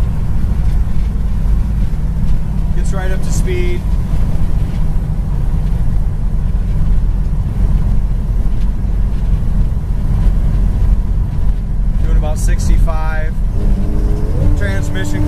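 A green 1968 Plymouth Road Runner drives along with a steady, loud engine drone under the whole stretch as it gets up to speed, while a voice speaks briefly twice over it.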